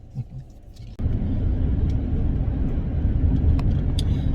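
Steady low rumble of a family car cruising on a long highway road trip, heard from inside the cabin, loud and continuous after a brief quieter start, with no talking.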